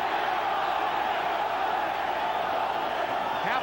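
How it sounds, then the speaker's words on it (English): A boxing arena crowd roars steadily in a dense, sustained wash of voices, chanting for Julio Cesar Chavez during round one of his world title bout against Kostya Tszyu; the din stays loud and unbroken throughout. "Crowd chanting for Chavez."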